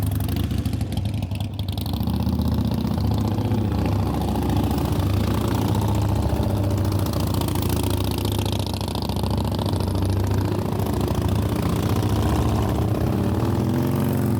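A Harley-Davidson Roadster motorcycle engine idles and putters along at low speed, a steady mid-pitched rumble that holds for the whole stretch.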